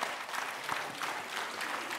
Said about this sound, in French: je vais vous demander d'applaudir vos porte-paroles